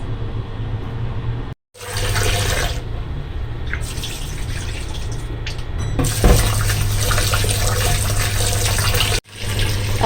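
Water poured from a container onto two cups of uncooked rice in a frying pan in a home kitchen, a steady close splashing stream broken by one brief pause partway through.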